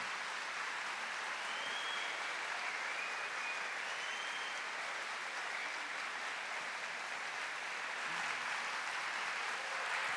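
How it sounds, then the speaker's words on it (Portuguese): Steady applause from a large crowd at a Catholic talk, even and sustained throughout, heard from some distance at a moderate level. "Uma salva de palmas"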